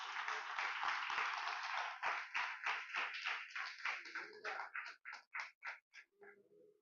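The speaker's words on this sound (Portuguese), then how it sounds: "Dá uma salva de palmas para o Senhor." A congregation claps in a steady, loud burst that thins into a few distinct, rhythmic claps before fading, with a brief voice at the very end.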